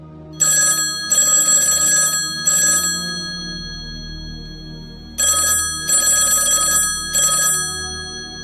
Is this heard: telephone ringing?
yes